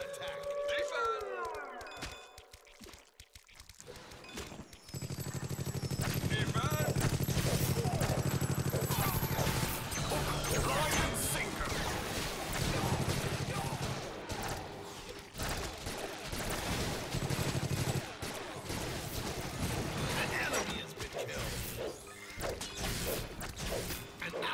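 Gunfire hitting a turret in the video game Awesomenauts, a busy stretch of rapid shots, crashes and mechanical clanks layered with game music and effects after a brief quiet opening.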